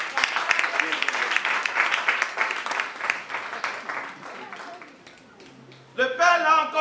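A church congregation applauding and acclaiming Jesus: dense, loud clapping fills most of the moment before fading, then a burst of singing or shouting voices rises at the end.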